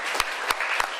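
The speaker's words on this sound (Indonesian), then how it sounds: "Tepuk tangan, Pak Ketua." A seated audience at a polytechnic college event applauds for the chairman, a short, dense patter of clapping with a few sharp, louder claps punctuating it.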